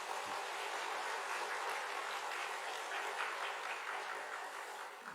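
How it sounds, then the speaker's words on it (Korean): Church congregation applauding the choir, organist and pianist during a service, a dense, steady wash of clapping that holds for about five seconds and fades slightly at the end. "이런 귀한 섬김을 해주시는 우리 성가대, 그리고 우리 오르가니스트 피아니스트에게 우리 박수 한번 드리도록 하겠습니다."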